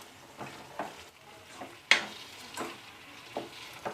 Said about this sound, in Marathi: ही वांगी आपल्याला 1 ते 2 मिनिट चांगलं तेलामध्ये छान परतून घ्यायची आहेत